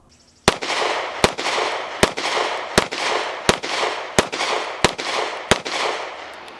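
A Smith & Wesson M&P Shield 4-inch ported handgun fires eight loud, sharp shots at a steady pace of roughly one every 0.7 seconds, each with a brief ringing tail outdoors.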